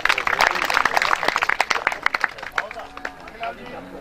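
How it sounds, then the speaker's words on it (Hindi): Scattered clapping from an audience at a village community cow-shelter event in Lilamba, Raipur, Pali, with uneven, close claps under crowd murmur and nearby voices. "ताली वाली बजा लो, भूल गए आप लोग।"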